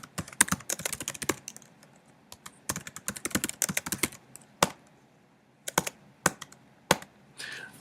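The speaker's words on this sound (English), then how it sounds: "So I'm going to finish typing this and then explain what I'm doing." Fingers type on a computer keyboard close by, in quick irregular clusters of clicky keystrokes broken by short pauses. Isolated single taps come near the end.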